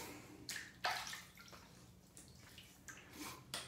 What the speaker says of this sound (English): So I'm gonna wet the face and get started.